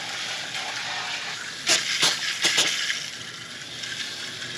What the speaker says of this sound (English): We're going to just take our hose, no chemicals, nothing yet. We're going to just rinse this off, completely get it rinsed off.